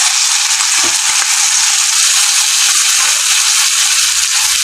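Taro leaf greens frying in hot oil with garlic browned until red, giving a loud, steady broadband sizzle and crackle that runs throughout, with occasional soft stirring knocks.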